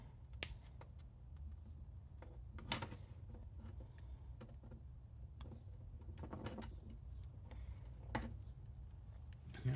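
Small parts snipped off a sled motor during a teardown, faint close clicks and sharp cuts scattered over a steady low hum, with no talking.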